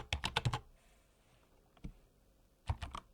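Crisp keystrokes on a computer keyboard while writing Python code, recorded close in a quiet ASMR setting: a fast cluster of taps, a lone pair of clicks, then another quick flurry.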